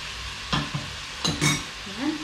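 Pork cooks in a pan for creamy carbonara, a low continuous sizzle with a handful of distinct scraping and clinking utensil strokes against the pan.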